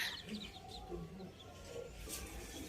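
Chickens cluck faintly in a coop on a terrace beside houses, with scattered soft clucks over a steady background hiss, some distance away.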